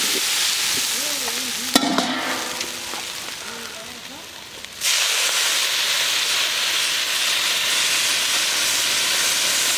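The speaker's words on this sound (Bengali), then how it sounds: "আলু সয়াবিন ভালো মতো কষিয়ে নিয়েছি, এখন পরিমাণ মতো জল দিয়ে দেবো।" Water poured into a pan of frying potato and soybean curry makes a loud, sustained sizzling hiss that jumps up suddenly midway and keeps steaming. A voice talks briefly early on.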